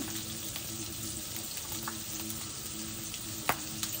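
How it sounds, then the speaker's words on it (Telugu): Methi and potato curry frying with turmeric in a pan gives off a steady, even sizzle throughout, with a few soft scrapes and clinks from stirring. "పసుపు వేసుకుని బాగా వేగనీయాలండి."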